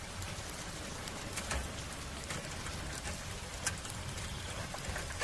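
Rain falls at night in a steady, even hiss, with occasional louder drops spattering on a surface. The shower is fairly faint and continuous, and no voices are heard.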